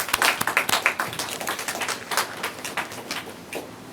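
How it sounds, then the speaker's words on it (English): A room of people claps for a woman being welcomed at a debate competition, dense overlapping hand claps that start strong and thin out gradually over four seconds, with no talking. "Can you please give her a round of applause?"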